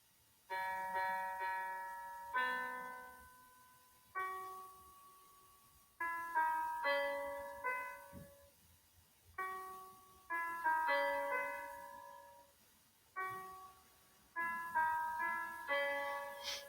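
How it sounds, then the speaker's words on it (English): A simple synthesized piano melody plays short phrases of bright notes, pausing between lines, fairly quiet with no talking. "make sure we actually can hear some sound from the virtual piano"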